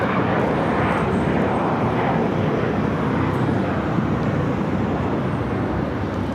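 An Air Canada Boeing 737 MAX 8 airliner taxis toward Terminal 6 on the south side of LAX, its engines a loud, steady roar that holds evenly throughout, close by and alone.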